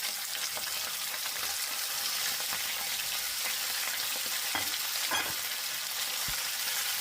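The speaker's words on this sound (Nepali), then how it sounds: "अब चिकन लाउँदैछु।" Chicken fries in a pan with bay leaves over high gas in a Nepali-style chicken fry, producing a loud, continuous sizzle with occasional stirring scrapes and knocks and no voices.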